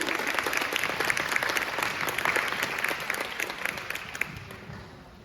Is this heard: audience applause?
yes